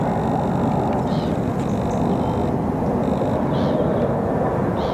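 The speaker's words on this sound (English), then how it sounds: "The planes are landing over us this time" Planes coming in to land pass overhead above open water at a carp fishing lake, a loud steady broadband roar that fills the whole clip, with faint higher tones drifting through it.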